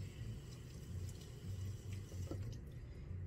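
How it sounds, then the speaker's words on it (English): Soft, steady splashing of running water as an action figure is rinsed under a tap, faint and continuous with a few small clinks, and no talking. "So let's just give it a rinse."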